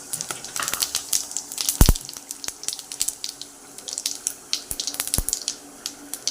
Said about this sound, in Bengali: এবার গোটা গরম মশলা আর একটু জিরে ফোড়ন